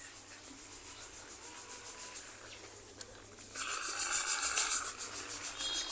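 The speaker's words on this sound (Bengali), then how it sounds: "এই যে এখানে দিদা চাল পরিষ্কার করতেছে" Ration rice being cleaned by hand at home: soft repeated rubbing and rustling of grains, quiet at first, then louder and brighter scraping in the second half, with no talk.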